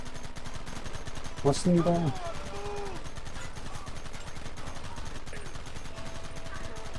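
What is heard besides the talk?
gunfire in the video game Red Dead Redemption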